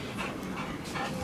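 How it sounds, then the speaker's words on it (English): A dog pants in quick, steady breaths close to the microphone. The panting is faint and fairly noisy, with no talking over it. "Funny dog."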